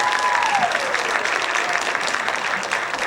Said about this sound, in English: you definitely need to give them one more round of applause